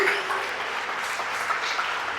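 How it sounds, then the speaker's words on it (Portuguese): Steady, dense applause from a church congregation, loud and continuous throughout with no gaps, a wash of many hands clapping together. "Aplauda o Senhor bem forte. Faça barulho com as suas mãos."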